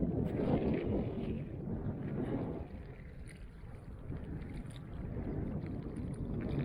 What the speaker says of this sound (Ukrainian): Сонечко сховалось і вітер піднявся